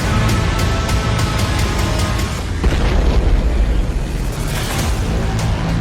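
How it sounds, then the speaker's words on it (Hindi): A Russian missile explodes on a road among moving cars in news footage, a loud sustained roaring boom with dense low rumble lasting throughout, no speech. "रूस की मिसाइल एक चलती कार के ठीक सामने आकर गिरी।"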